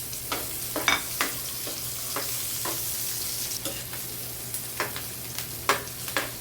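Onion being stirred in a pan, giving a soft steady background sizzle with scattered scraping clicks of a utensil at irregular moments, alone without talk.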